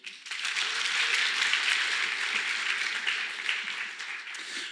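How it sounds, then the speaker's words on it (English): Audience applause for a contestant coming on stage at a programming conference lightning talks session, a sustained burst of many hands clapping that swells quickly and slowly tapers. "Round of applause, everyone."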